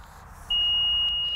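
A water level meter's steady high-pitched electronic beep, measuring a field's water table, starts abruptly and holds continuously over a faint background hum.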